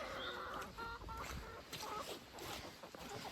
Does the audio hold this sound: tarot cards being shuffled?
no